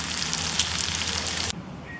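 Homemade bacon frying in a pan, a dense close hiss and crackle that cuts off abruptly partway through, leaving a quieter background hum, no talk.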